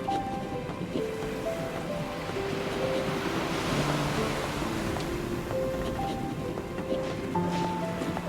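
Ocean waves and wind around a ship in the video game NieR Re[in]carnation: a steady wash of surf and gusting air runs throughout beneath soft music tones.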